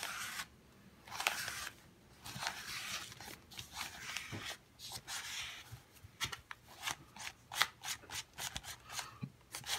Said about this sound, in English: I have a piece of cardboard. I just ripped it off of a package that was in my recycling bin, and I'm just gonna be scraping.